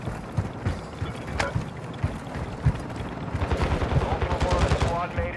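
Rapid bursts of gunfire rattle through a video game dogfight as an enemy aircraft is shot down, with engine drone and bursts of close, loud machine-gun fire underneath.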